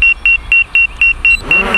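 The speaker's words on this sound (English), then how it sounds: "Of course, like I said, it's beeping." An Autel EVO drone sounds a loud, rapid series of about seven evenly spaced high electronic beeps from its rear obstacle sensors, close by, with a faint low hum underneath.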